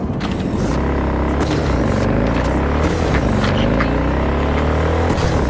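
A Cyberpunk game car engine revs and climbs, with repeated gear shifts where the pitch drops and rises again, loud and continuous throughout.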